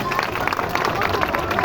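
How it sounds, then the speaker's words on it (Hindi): Audience clapping for schoolteachers at an award event, a dense steady patter of many hands that holds evenly through the short stretch with crowd murmur mixed in. "जोरदार ऐसे शिक्षक साथियों के लिए ताली हो जाए।"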